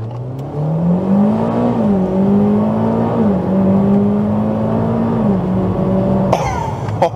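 A 2010 Mitsubishi Evo X pulls hard under acceleration, its loud engine note climbing steadily through several firm gear shifts with brief dips between them, close and continuous, ending with a sharp clunk.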